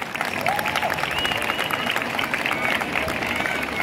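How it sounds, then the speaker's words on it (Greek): Applause from the crowd at an international traditional dance festival in Agrinio, Greece, a dense steady clatter of clapping with some cheering mixed in, held at a constant level throughout. "Τους αξίζει ένα μεγάλο χειροκρότημα."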